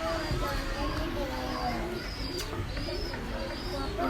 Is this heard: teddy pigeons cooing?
yes